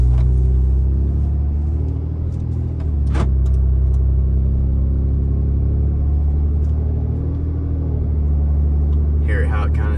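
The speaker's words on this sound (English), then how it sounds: "show you a little bit of our drive sequence. We're just gonna let it shift a couple times." A car with a freshly reflashed transmission computer drives at low RPM, its loud close engine rumble holding steady with slight dips as it shifts gears. A brief thump and a rattle occur near the end, and a voice talks over it.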